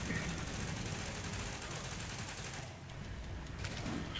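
Dense gunfire from the video game Tom Clancy's The Division crackles in rapid bursts of a firefight, with continuous shooting that dips briefly before picking up again.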